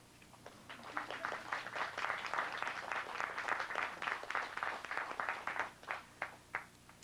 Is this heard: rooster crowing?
no